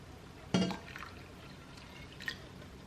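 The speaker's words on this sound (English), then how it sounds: "And now we're going to add the final ingredient, some boiling hot water." Boiling hot water poured into a Skooma mixture: a short, splashy burst of liquid, then quiet and a second faint splash. Soft and close, with no talking over it.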